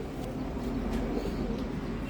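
A pigeon in a home loft coos in low, soft, rolling tones, a steady murmur lasting about two seconds with no voices.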